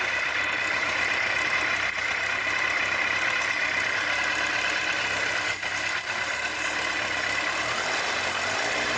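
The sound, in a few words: Kawasaki ZZR1100 motorcycle engine idling cold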